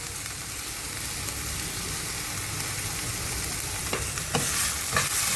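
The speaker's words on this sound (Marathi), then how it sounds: "मी त्यातच हिंग टाकते आहे।" Asafoetida and salt tipped into hot oil and stirred in a pan for stuffed green chillies with chicken keema, giving a continuous frying sizzle with scraping stir strokes and a few sharp clatters near the end.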